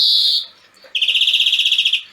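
Songbird in a cage singing: a sustained high whistled note, a short gap, then a rapid run of repeated pulsed chirps, loud and close.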